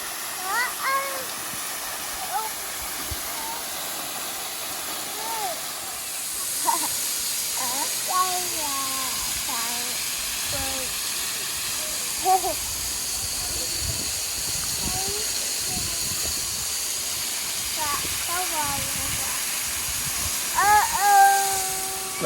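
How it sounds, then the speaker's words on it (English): A frozen waterfall with icicles and ice formations in the snowy Ozarks pours as a steady broadband hiss throughout, with a person talking over it at intervals. "we've made it to the bottom of the waterfall"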